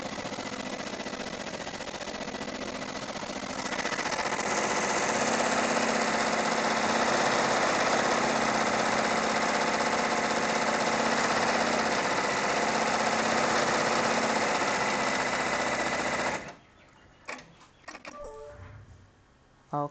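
An embroidery machine stitching an insect garden hanger, a steady loud mechanical drone that swells after a few seconds, runs evenly, then stops abruptly near the end, leaving faint clicks and rattles.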